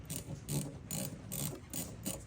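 A hose clamp on a replacement line snaps into place during parts work on a GX390 engine UTV, giving about six sharp, evenly spaced ratcheting clicks, close and clear with no talk.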